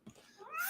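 A single close cat meow rises in pitch and brightens toward the end, short and moderately loud, with no talk over it.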